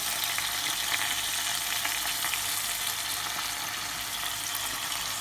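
Prawns simmer and sizzle in a one-pot coconut curry with lime juice, giving a steady, close, even bubbling fizz that holds at one level for the whole stretch, with no talk over it.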